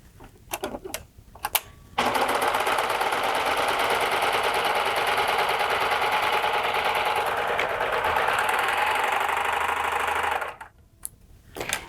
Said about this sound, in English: Now with the 3-thread overlock, I'll show you just what it looks like.